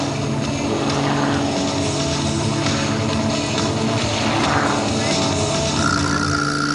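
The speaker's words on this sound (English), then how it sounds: "The roll rate of the Goodyear Aviation Extra 330 is phenomenal, and so is its ability to do the torque roll." A Goodyear Aviation Extra 330 aerobatic plane drones steadily and loudly overhead, its engine note holding constant with slight shifts in pitch.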